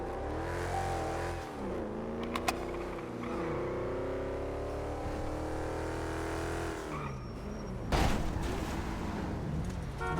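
A car driven in a roleplay video game, its engine droning steadily and shifting pitch as it accelerates and slows, with a brief tire skid and a sharp bump near the end; no talking.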